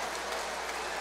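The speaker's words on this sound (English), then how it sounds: "Listen to the boos. The crowd wanted that one to go the Lakers' way." A lacrosse crowd at a Peterborough Lakers home game against the Brooklin Redmen boos a waved-off goal. The loud, dense roar holds steady throughout the short moment.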